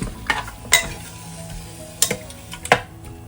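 Country chicken pieces for a betel leaf soup are stirred in sizzling oil in a pan. Sharp spatula scrapes and clinks come in bursts over a quiet, steady frying hiss.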